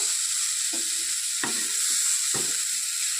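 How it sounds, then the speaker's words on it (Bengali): Spice paste sizzles and fries in a pan for a Bombay duck (loitta fish) curry, a steady close hiss with three soft scraping stirs, no voices. "মশলাটা আমার কষিয়ে নেওয়া একদম কমপ্লিট হয়ে গেছে"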